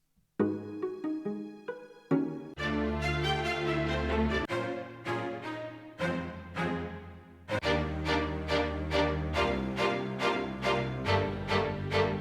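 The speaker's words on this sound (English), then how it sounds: "that sound is Titan string loop" Layered strings from a Titan string loop on an Akai MPC One play a looping melodic phrase with rhythmic swells and sustained chords, steady and full throughout.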